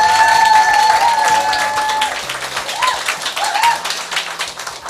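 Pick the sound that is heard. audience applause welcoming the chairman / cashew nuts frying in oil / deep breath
audience applause welcoming the chairman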